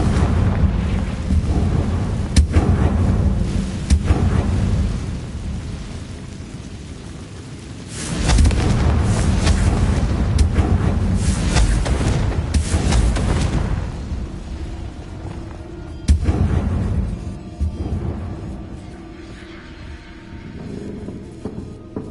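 Bombarda and Confringo spells explode in Hogwarts Legacy: loud booming blasts, with sharp hits near 2.5 and 16 seconds and a heavier rumbling eruption around 8 seconds, separated by quieter, echoing stretches.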